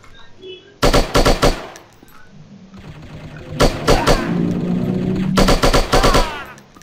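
Rapid automatic gunfire rings out in a mobile shooting game while enemies are gunned down, coming in three loud bursts of fast shots with quieter in-game sounds and tones between them.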